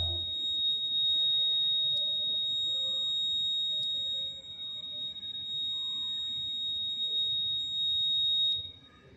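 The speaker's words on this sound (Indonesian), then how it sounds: "di reset tetap aja buzzer berbunyi" A continuous high-pitched electronic buzzer alarm from a password-based access prototype keeps sounding at a steady tone with faint background noise, stopping abruptly near the end.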